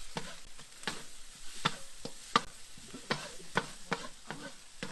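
Rice and egg frying in a pan and being stirred, with a steady low sizzle broken by sharp scraping stir strokes about once a second, close and fairly quiet.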